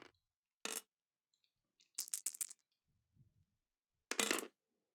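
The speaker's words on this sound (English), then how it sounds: "Forgot to roll the dice there." Dice are rolled during a board game, heard as several short, sharp rattling bursts of clatter separated by quiet pauses, close by and fairly crisp.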